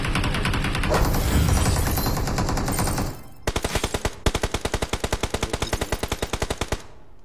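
Rapid automatic gunfire in PUBG: Battlegrounds: a dense, noisy burst opens the scene, then a short pause gives way to a steady stream of loud, evenly spaced shots that runs to the end.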